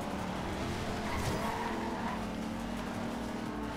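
Tires screech in a sustained skid as a car drifts through a turn in the racing game Forza Horizon 2, loud and continuous over a steady engine roar.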